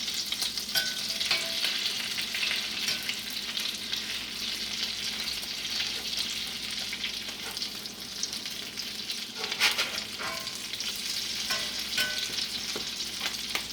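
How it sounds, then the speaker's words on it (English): Salmon patties fry in a hot cast iron skillet with a steady, close, broadband sizzle and crackle that runs unbroken throughout, with occasional sharper pops and spatters. "Cast iron skillet just gives them a real pretty color, where they get a more even fry."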